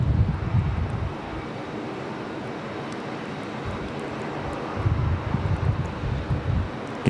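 Strong wind blowing across the microphone at Raleigh-Durham International Airport, steady roaring gusts with heavier buffeting bursts at the start and near the end, and a faint aircraft hum underneath.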